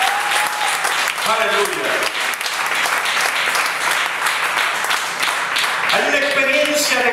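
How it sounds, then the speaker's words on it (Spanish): Church congregation applauding loudly and steadily throughout a Spanish-language service, with a voice shouting praise near the start and again near the end over the clapping. "Bríndele fuerte el aplauso al Rey de Gloria."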